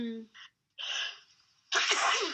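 A single sharp sneeze bursts out after a brief breathy intake, close to the mic, followed by a short exclamation and a second voiced sound in a quiet indoor setting.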